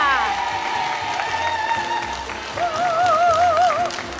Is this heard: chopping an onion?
no